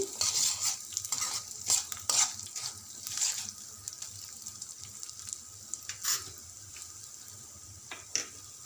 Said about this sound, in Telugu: ఒక స్పూన్ ఆవాలు ఇవన్నీ లైట్గా ఫ్రై అయ్యేదాకా కలుపుకోవాలండి